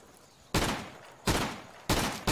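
Gunfire in the video game Insurgency: three loud, sustained bursts of rapid shots about two-thirds of a second each, separated by short pauses with faint background noise.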